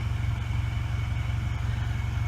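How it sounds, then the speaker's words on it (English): A supercharged Mitsubishi Eclipse GS with a 2.4-litre 4G69 four-cylinder engine idles with a steady, loud, low pulsing throb that stays even and close. "I love the way this car sounds."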